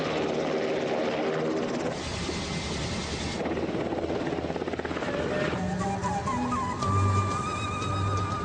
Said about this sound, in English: Our royal tour of Jordan begins in the king's private Black Hawk helicopter.